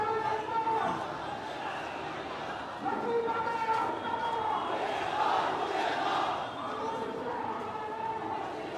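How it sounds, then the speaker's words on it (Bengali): A large student rally crowd on the move through city streets for Victory Day in Dhaka, many voices chanting slogans together in waves, sustained and moderately distant with general crowd noise underneath. "ইসলামী ছাত্র শিবির জিন্দাবাদ জিন্দাবাদ এই নামে কিন্তু তারা স্লোগান দিচ্ছেন"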